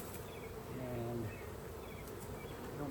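Honey bees hum steadily around an open hive during an inspection, a dense, soft insect drone close by with no speech.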